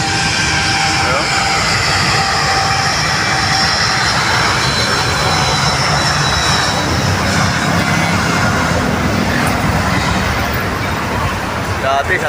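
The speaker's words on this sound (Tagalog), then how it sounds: "nakakaaliw dito ng manood ng mga aeroplano" A fixed-wing airplane passes close overhead with a loud, continuous engine roar that fills the whole stretch. Steady road traffic blends into the background.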